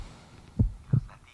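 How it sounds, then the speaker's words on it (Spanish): Two soft, low heartbeat thumps spaced about a third of a second apart, close and muffled over a faint steady hum. "los latidos del corazón de mi padre"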